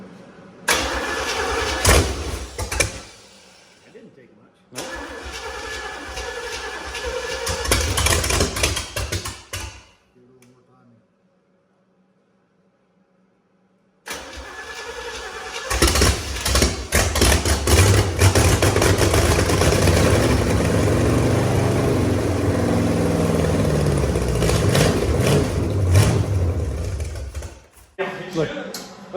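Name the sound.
big-block engine first start, then idling and revving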